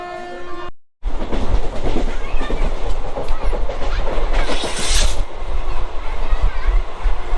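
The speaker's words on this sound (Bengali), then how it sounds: "চলো ট্রেনে ওঠা যাক, হুইসেল দিয়ে দিয়েছে।" A train horn sounds briefly, then a loud, continuous rumble and clatter of the Maa Tara Express moving off from Tarapith Road station fills the rest, close by.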